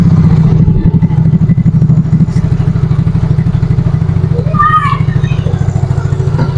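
Yamaha Fino 125 scooter engine idling steadily at normal idle speed, a close, even putter throughout with a few faint background sounds.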